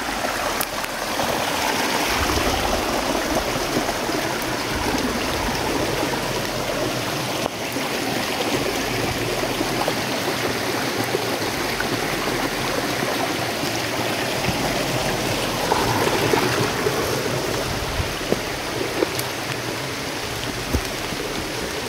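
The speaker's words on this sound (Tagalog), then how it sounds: "Lakas na talaga yung ulan" Heavy rain pours outdoors beside a river, a loud, unbroken hiss of falling water that holds steady for the whole stretch.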